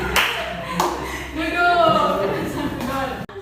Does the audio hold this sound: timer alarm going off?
no